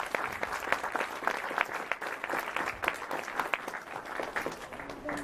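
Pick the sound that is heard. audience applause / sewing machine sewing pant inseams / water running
audience applause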